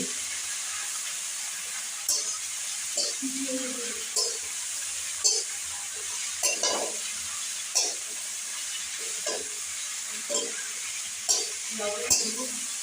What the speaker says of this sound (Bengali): ফোড়নে দিলাম একটু পাঁচফোড়ন আর একটু পেঁয়াজ কুচি করে চিচিঙ্গা ভাজাটা আমি বসিয়ে দিয়েছি